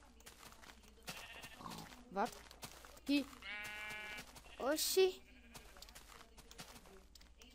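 Sheep in the Minecraft video game bleat several times in short wavering calls amid game sounds, while people talk over them.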